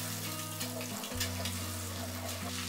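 Egg scrambling in a little oil in a sauté pan gives a continuous close sizzle and hiss, with a steady hum underneath throughout.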